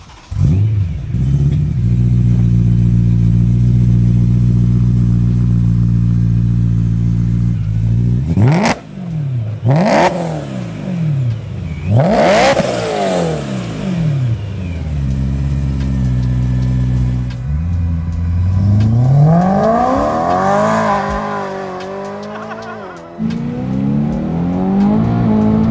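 A supercharged BMW M3 engine roars loud and close, holding a steady rev before sharp blips and climbing acceleration sweeps, with supercharger whine rising through several gear pulls during a drive.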